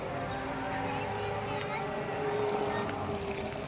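A 1988 Suzuki FX car engine idling just after being restarted, a steady low hum with a continuous even drone throughout, fairly quiet and close.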